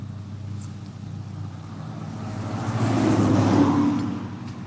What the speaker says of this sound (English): The truck went flying past.